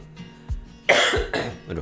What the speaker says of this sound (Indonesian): Aduh, lagi batuk nih guys.